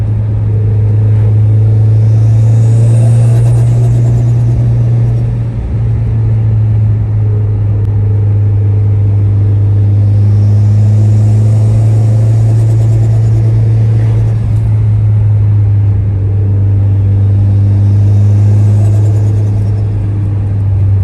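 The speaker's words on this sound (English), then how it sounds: "I hope you guys can hear the turbo." Loud engine drone from inside a moving Mitsubishi Lancer Evolution X at night, a steady low hum with rising, whistling turbo swells that come and go several times.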